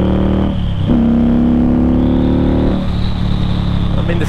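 Indian Scout mid-size cruiser motorcycle engine running steadily and close, its low tone rising into a rev partway through, loud throughout with no one talking over it.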